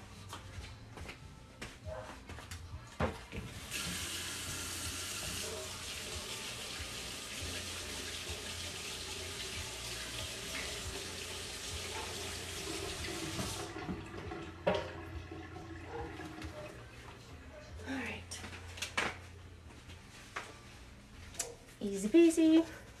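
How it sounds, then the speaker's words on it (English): A glitter-covered paintbrush is rinsed under a running tap; water gushes steadily for about ten seconds, with clatter and handling noises before and after in a small indoor space. "I am gonna rinse my brush out real quick to get this glitter off"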